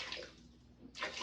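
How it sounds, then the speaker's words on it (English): Water pours into a pressure pot of fresh corn for boiling, two short splashing gushes separated by a brief pause, close and fairly quiet. "Add the water"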